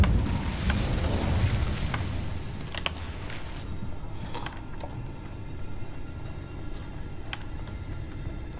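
The Incendio fire spell is cast in Hogwarts Legacy: a loud, roaring burst of flame that fades into a low rumble, with a few faint clicks and pops afterward.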